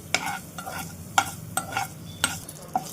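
A cumin, urad dal and small dried red chili tempering fries in a hot pan while being stirred, giving a steady close sizzle broken by several sharp crackles and pops spread across a few seconds.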